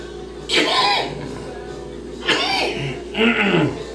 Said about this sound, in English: You're wondering why I'm coughing.